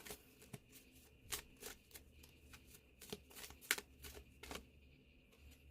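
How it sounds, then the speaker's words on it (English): Tarot cards shuffled and drawn from a deck: a quiet run of short, crisp card snaps and flicks at irregular intervals, close up, with no talking. "I'll pull one more card and we'll go to the bottom of the deck"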